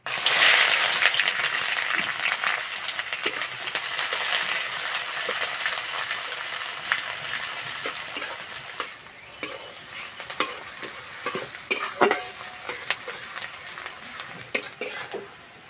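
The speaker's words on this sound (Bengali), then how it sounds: "পেঁয়াজ ভাজা হয়ে গেছে" Chopped onions frying with whole garam masala spices in oil in a pan, a steady loud sizzle that thins out midway, broken by repeated clinks and scrapes of a stirring utensil.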